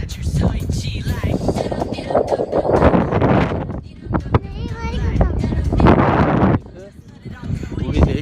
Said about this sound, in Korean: 바람 너무 많이 분다